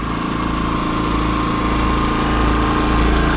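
A Predator 2000 portable generator running close by, a loud, constant high-pitched engine hum with steady vibration and no change in load.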